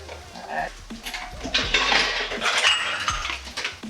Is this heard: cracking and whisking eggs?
yes